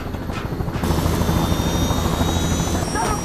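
Loud, steady helicopter rotor thrum and engine whine from a heist film, as bandits escape aboard carrying stolen money; the chopping drone stays constant and close throughout with no talk.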